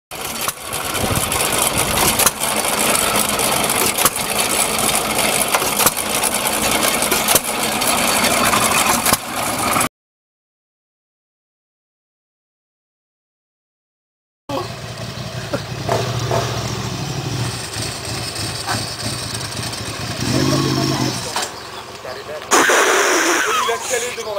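A Ducati motorcycle engine runs loud and close, idling steadily, then after a silent break returns with uneven revs and a stall while someone talks over it.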